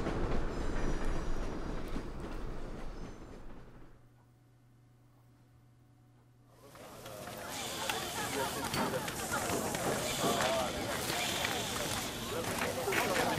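A train travels in the video game 428 Shibuya Scramble, giving a dense rolling rumble and rattle that drops away to near silence with a faint hum, then swells back louder, with a voice talking over it.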